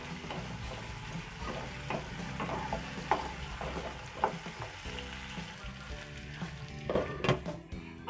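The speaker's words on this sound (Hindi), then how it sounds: "इसलिए इसे हम थोड़ा सा ढक देते हैं और फ्राई होने देते हैं" Potatoes and cauliflower frying in a pan for a mixed vegetable dry dish, a continuous low sizzle with scattered spatula clinks and stirring scrapes, fairly quiet and without speech.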